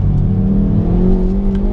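A facelifted 2021 Hyundai i30N hot hatch with a 2-litre turbocharged engine revs steadily in a loud, close, sustained drone from inside the car, with no talking.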